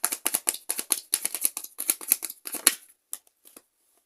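Tarot cards being shuffled and drawn, a quick run of crisp riffling flicks and slaps close up, ending with a few separate card snaps and then quiet.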